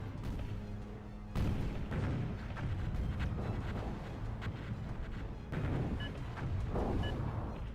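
Bombing explosions in the Zero-K strategy game, a continuous rumbling barrage of deep booms with sudden louder blasts breaking in, heavy and sustained.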